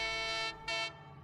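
A horn sounds twice, a long tonal blast followed by a shorter one after a brief gap, loud and close with a rich harmonic tone.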